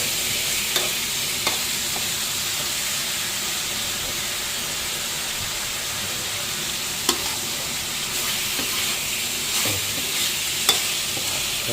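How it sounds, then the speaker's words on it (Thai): Beef stir-frying with red curry paste in a pan, giving a continuous close sizzle and hiss broken by a few sharp clicks of a utensil against the pan, with no voices. "ตอนนี้ก็ ผัดให้เนื้อกับพริกแกง เขาเข้ากันนะครับ"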